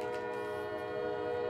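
A passing train's horn blares outside a shut-window room, a sustained, steady, multi-toned blast over a low rail rumble, loud and continuous for the whole moment.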